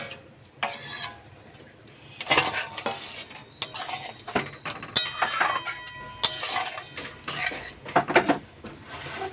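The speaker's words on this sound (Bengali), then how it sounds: "এবার এটা নেড়ে ছেড়ে আমি ভেজে রাখা পটলগুলো এর মধ্যে দিয়ে দেবো।" A utensil scrapes and stirs spiced oil in a metal pan in irregular bursts of clinks and rasps, with a light sizzle as fried pointed gourd pieces are added.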